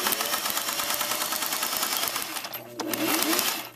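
A sewing machine runs steadily up close as it stitches piping, a fast, even mechanical rattle of needle strokes that slows and stops briefly near the end before running again.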